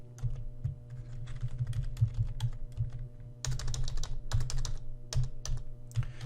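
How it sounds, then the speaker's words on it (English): Keys on a graphing calculator are pressed in quick, uneven bursts of small plastic clicks as numbers go in, close and fairly quiet over a faint steady hum, with no talking. "So I'm going to type that in."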